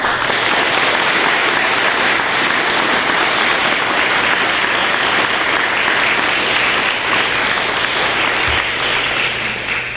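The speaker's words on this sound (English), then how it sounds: "Please give these members of the Park River Area National Honor Society a round of applause." Steady, sustained applause from a school audience honoring Park River Area National Honor Society inductees at an induction ceremony, a dense even wash of clapping filling the room without a break.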